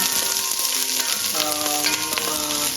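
Onion sautés in hot oil in a pan for Filipino calderetang baboy, a close, steady sizzle with crackling bursts and occasional stirring scrapes, with no talking.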